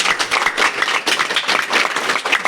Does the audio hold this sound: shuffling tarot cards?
no